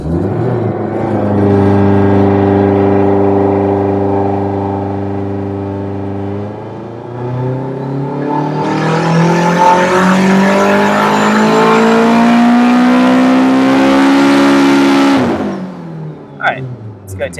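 A turbocharged Honda K20A2 engine in an EK Civic runs on a dyno, idling steadily before climbing in a long, loud rising rev with turbo whoosh and then cutting off sharply, with a voice speaking over it.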